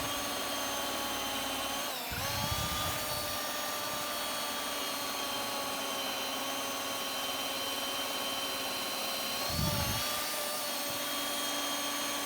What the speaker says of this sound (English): I'm just gonna use the drill to like guess.